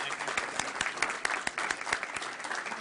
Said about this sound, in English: So we commend you and we applaud you.